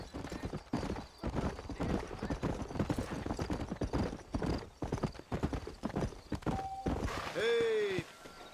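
Horses' hooves clip-clop in the Red Dead Redemption video game, a dense, fairly close run of rhythmic hoofbeats. A horse whinnies near the end.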